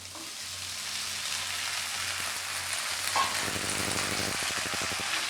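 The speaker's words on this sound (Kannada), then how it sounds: "ಅರ್ಧ ಚಮಚೆ ಅರ್ಶಿಣ ಪುಡಿ ನೆನೆಸಿಟ್ಟಿದ್ದು ಒಂದು ಬೌಲ್ ಸಾಬುದಾನಿ ಹಾಕತ್ತೀನಿ" Soaked sabudana with turmeric frying in a pan for sabudana khichdi, giving a steady, close hiss of sizzling with a few faint stirring taps toward the end.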